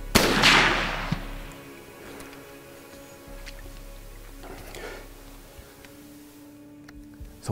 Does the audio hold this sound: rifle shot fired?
yes